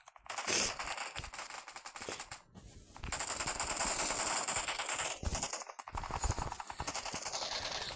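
Rapid bursts of video game gunfire, automatic rattling volleys with short pauses between them, loud and close, with no talking.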